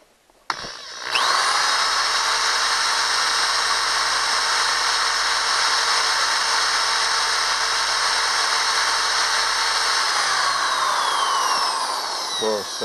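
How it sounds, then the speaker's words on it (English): A power drill with a carbide bit whines steadily at high speed for over ten seconds after a brief click, drilling out a broken screw in a Craftsman leaf blower, loud and close, winding down at the end. "This carbide drill is just amazing."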